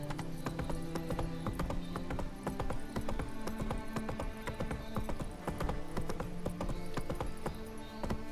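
Roach, a horse in The Witcher 3 video game, gallops with a steady, rapid clip-clop of hooves, loud and close, with a brief whinny and game music behind.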